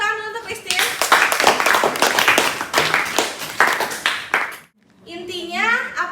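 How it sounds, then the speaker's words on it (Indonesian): Students clapping for a classmate in a biotechnology cheese-making lesson, a short burst of mixed hand claps with children's voices and chatter over it, ending abruptly before talk resumes. "beri tepuk tangan dulu untuk Christine"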